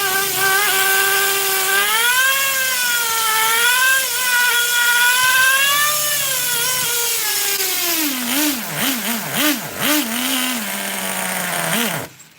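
A Traxxas T-Maxx nitro RC truck's 2.5 engine screams loudly up close, holding a high-pitched whine that rises and dips, then blips through several sharp revs before cutting off.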